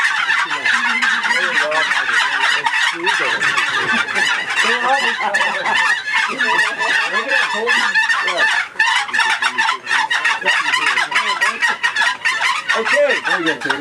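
A turkey box call imitates dense runs of turkey yelps and gobble-like calls, loud and close and nearly continuous with brief pauses, while a person briefly speaks partway through.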